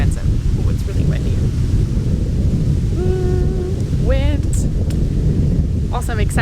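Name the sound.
strong wind blowing outdoors in Hawaii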